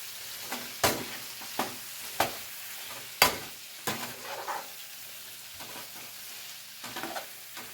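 Chili, coriander and cumin powders are stirred into a sizzling kofta masala in a pan, a faint, soft frying hiss broken by a handful of scattered spoon clicks and scrapes, with no talk.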